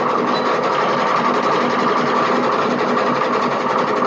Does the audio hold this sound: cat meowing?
no